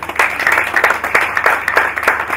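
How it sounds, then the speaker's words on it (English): An audience applauds a team at the NSE 2019 X-Kathon hackathon event, a dense, steady burst of clapping from a crowd that holds at a lively level for a couple of seconds. "Another round of applause, please."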